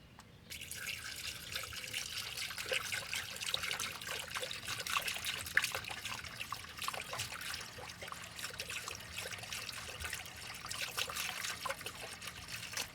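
Coolant from a 1963 Ford Galaxie 500 drains through a line and splashes into a bucket, a steady close trickle and patter of liquid running continuously without speech.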